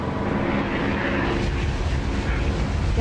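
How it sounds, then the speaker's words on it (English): Spitfire piston engine in a flight simulator, a steady, dense droning roar held at constant power throughout, loud and close with no break or pause. "I'm using a engine sound produced by Echo 19 for this spit"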